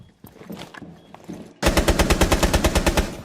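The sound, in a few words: gunfire in Rainbow Six Siege video game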